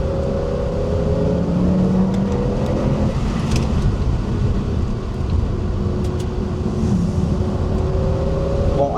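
An Audi RS6 C6 with a biturbo V10 accelerates hard in kickdown, a loud, sustained engine roar with rising tones climbing through the gears from inside the cabin.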